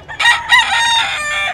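A single rooster at a pet market in Bocaue, Bulacan lets out one loud, close crow in a couple of rising bursts that end in a sustained call, heard alone.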